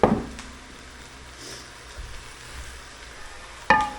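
Water carrying aromatic vegetables is poured into a hot pan to deglaze it, giving a sharp burst of sizzling that settles into a soft, steady hiss, with a light knock near the end.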